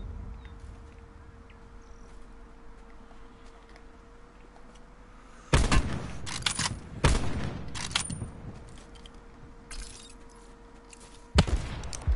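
Gunfire in a battle royale video game sounds as bursts of sharp shots in several clusters, loud against a steady faint background hum.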